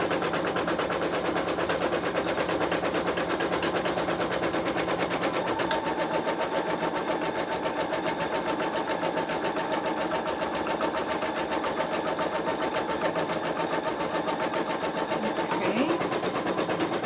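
An embroidery machine fitted with a Sew Tech PA116M 260x200mm magnetic hoop runs a placement stitch, a fast, steady mechanical whir and needle chatter that continues unbroken throughout.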